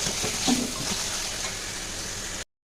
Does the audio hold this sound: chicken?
yes